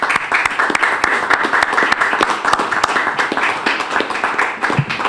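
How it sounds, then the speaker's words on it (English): A crowd at a mayor's ceremony honoring Little League champions gives a loud, sustained round of applause, dense overlapping hand claps filling the room evenly for several seconds. "they deserve a round of applause just as you guys do"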